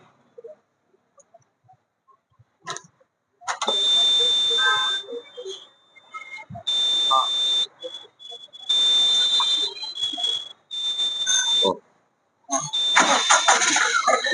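A repaired four-wheeler engine at a garage, after its crankcase had jammed, is cranked in several separate bursts with a high whining tone, then catches and runs briefly; people talk between the attempts.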